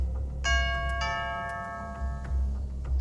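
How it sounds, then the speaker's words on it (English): A two-tone doorbell chime in a video game rings twice in quick succession over a low background hum, fairly close and clear. "Doorbell? But we're all here, aren't we?"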